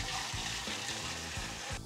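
Collected low wines from stripping runs of a bourbon pot still are poured back into the still, a loud, continuous liquid gush and splash that ends abruptly.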